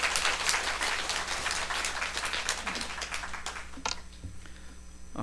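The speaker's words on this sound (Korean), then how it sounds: "박수로 환영하면 좋겠습니다" A church congregation applauding in welcome at a New Year's worship gathering, a full patter of clapping by many hands that thins out toward the end. It is heard alone.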